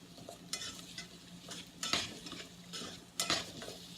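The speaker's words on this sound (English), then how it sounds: "Continue to mix it, stir it, bringing out the flavor of those onions." Onions being stirred in a skillet, a spoon scraping and clinking against the pan in several distinct strokes over a soft sizzle, close and fairly quiet, with no talk.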